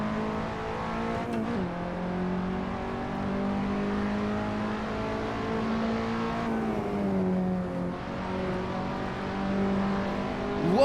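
KTM X-Bow race car engine in a sim racing game at Laguna Seca, a steady droning engine note that rises and falls through gear changes and corners, continuous and fairly loud with no talk.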